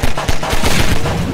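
Rapid, loud gunfire in the Half-Life video game, a dense string of sharp shots in quick succession with no talking over it.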